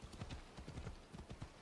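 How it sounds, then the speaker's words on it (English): Horse hooves clip-clop steadily at a brisk riding pace in Assassin's Creed Odyssey, a continuous run of quick, moderately loud, close strikes heard on their own. "I'm riding the horse,"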